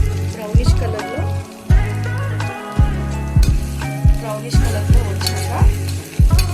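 Onions frying in oil in a pan until brownish, a steady sizzle with repeated sharp stirring scrapes and clatters of a spoon, fairly loud and close.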